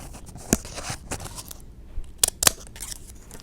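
Scissors snip through paper while cutting out chibi cat ears, a handful of crisp, close cuts spaced irregularly with soft rustling between them.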